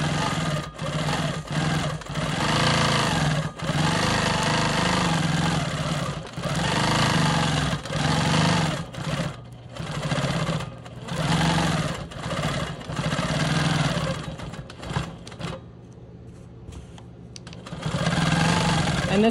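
A sewing machine hums in long, steady runs while free-motion quilting swirls on a star quilt block, close and loud, with short pauses between stretches of stitching.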